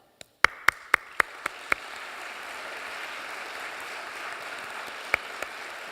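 A lecture audience claps for festival supporters, beginning with a few loud, separate claps and then settling into a steady, moderately distant wash of applause that continues to the end.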